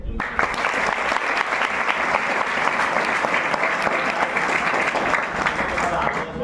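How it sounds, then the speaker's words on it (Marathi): Schoolchildren clapping together in a dense, loud burst of applause that stays steady for several seconds and fades at the end, heard up close. "टाळ्या रे"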